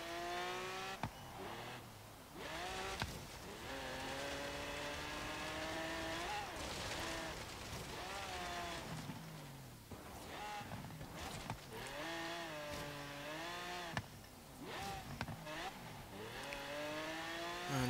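A 1967 Lamborghini Miura P400 engine in Forza Horizon during autocross, revving hard and loud in rising and falling sweeps with repeated gear changes and brief lifts, close and continuous for the whole stretch.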